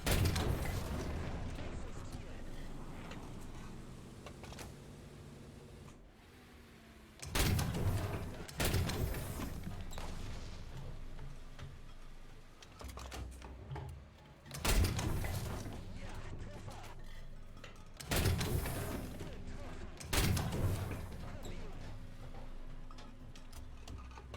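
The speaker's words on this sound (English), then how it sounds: "you can fire both guns at the same time" Twin tank cannons of the VT 1-2 vehicle fire in a game: five heavy, sharp booms spaced several seconds apart, some in close pairs, each with a ringing tail over engine rumble while someone talks between shots.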